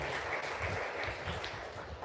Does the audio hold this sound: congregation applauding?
yes